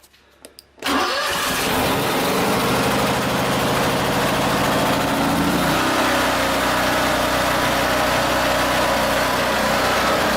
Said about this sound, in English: Generator started nicely.